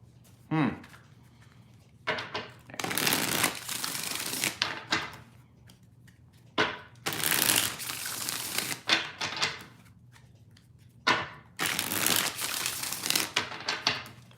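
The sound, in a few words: shuffling a deck of tarot cards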